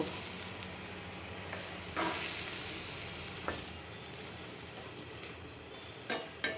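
Curry sizzles and fries steadily in a steel pan on the stove, close by, with a few soft stirring scrapes breaking through the constant crackle; no one speaks.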